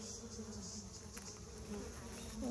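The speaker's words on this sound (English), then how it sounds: "So these little, all the bees here are worker bees" Worker honey bees buzz on a hive frame as it is inspected, a steady close drone with a faint high whine, continuous and alone.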